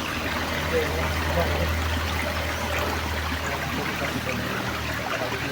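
Steady rushing of a clear, sediment-free forest stream, a continuous broadband flow with a low rumble underneath, close and even throughout.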